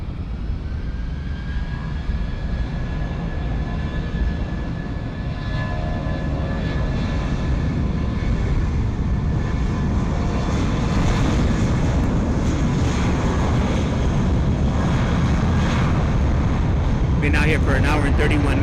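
A JetBlue airliner moves at San Juan's Luis Muñoz Marín International Airport, its jet engines a loud, continuous roar that swells slightly toward the end.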